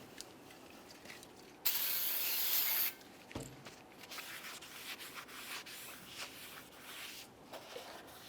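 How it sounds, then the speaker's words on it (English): Brake rotor on a 2001-2005 Ford Explorer Sport Trac being cleaned with a wire brush or sandpaper, faint rubbing scratches with one brief loud harsh scrubbing burst early on, quiet and close. "you can either use a wire brush or even some sandpaper. Let's go ahead and clean that brake rotor."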